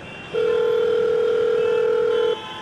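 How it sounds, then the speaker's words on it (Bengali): A single steady ringback tone sounds on a phone call for about two seconds, clear and alone against a faint background hiss. "ওপাশে কিছুক্ষণ বাজার পর অন্বেষার গলা শোনা গেল"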